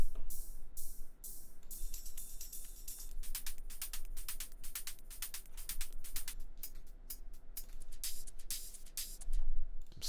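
Electronic hi-hats tick in a progressive house track, crisp bright hits in a steady repeating pattern over a low hum, clear and close with no voices.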